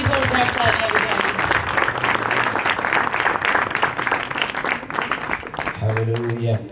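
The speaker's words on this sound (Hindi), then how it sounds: "let us clap our hands for Jesus" A church congregation claps hands loudly and steadily for several seconds, then a voice begins speaking.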